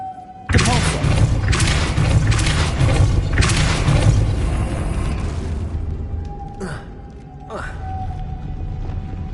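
Depulso force spell cast in Hogwarts Legacy on PS5, a loud booming thud that bursts in and rumbles on for several seconds, followed by two sharper, fainter knocks near the end.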